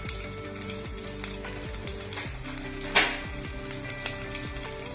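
Curry leaves and sliced green chili sizzle and crackle in hot oil for a vegetable rice dish, a steady loud frying hiss with stirring scrapes and one sharp pop near the middle.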